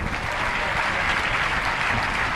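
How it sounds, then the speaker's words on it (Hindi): Loud, dense applause from a large crowd at a Jain religious question-and-answer gathering, steady and continuous throughout with no voices over it. "जोरदार तालियां।"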